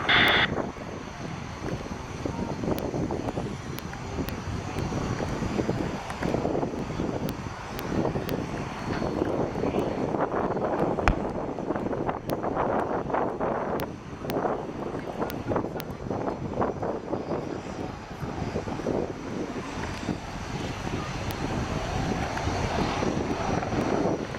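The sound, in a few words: RAF Apache helicopter flying display at air tattoo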